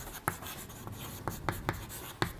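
Chalk or marker strokes on a board while writing a chemistry name, short scratchy taps and swipes in an uneven rhythm, close and fairly quiet over a steady room hiss.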